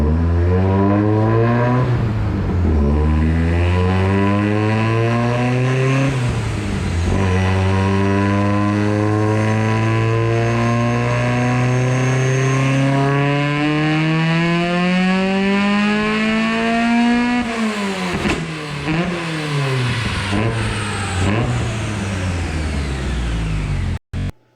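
A Neon car engine on a dyno running on two nitrous kits, revving up to about 7500 rpm in repeated sweeping pulls, each rising tone dropping back before climbing again. Loud and close, ending abruptly with no talk.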